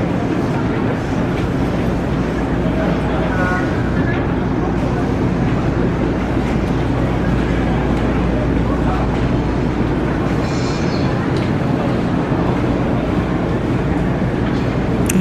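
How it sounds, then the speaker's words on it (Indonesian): A KRL commuter train pulls away from the platform with a dense, loud, steady rumble and faint squeaks rising above it, with no talk. "Di KRL Inka berangkat teman-teman."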